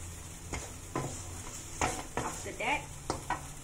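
Onions sizzle and fry in a pan while a spoon scrapes and stirs in repeated strokes, with a brief spoken phrase near the start; potato and garam masala beef are part of the same dish.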